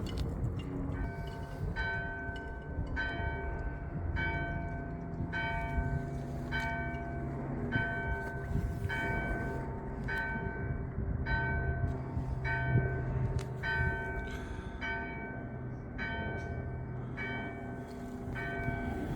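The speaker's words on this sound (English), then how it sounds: "That's the summoning bell for Mass, to call all the faithful to prayer." The summoning bell of St Mary's church on Cable Street, London, rings out for Mass in steady, evenly spaced strokes over about nineteen seconds, loud and resonant with ringing overtones and no talk.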